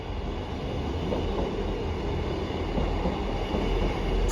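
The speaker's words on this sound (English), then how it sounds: "Here comes the 1237 South Western Railway service to Salisbury, form number 158." A South Western Railway class 158 diesel train arrives at Southampton Central, a steady rumbling roll of wheels and engine heard nearby on the platform without speech.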